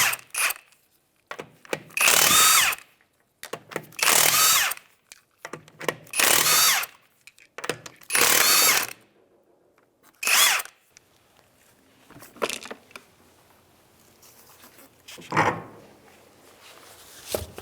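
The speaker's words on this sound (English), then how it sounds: "Go ahead and take off the lug nuts now." Power drill spinning off 19 mm lug nuts from a Honda Element rear wheel, in four loud, separate bursts of about a second each with quiet pauses between, then shorter, fainter bursts.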